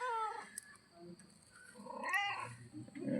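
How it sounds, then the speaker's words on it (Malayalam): Newborn kittens give thin, high mewing cries, a few short calls followed by a longer wavering meow near the end, with faint household sounds around them. "cat babies, cat babies,"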